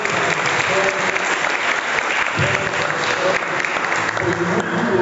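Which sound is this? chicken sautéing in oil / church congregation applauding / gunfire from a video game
church congregation applauding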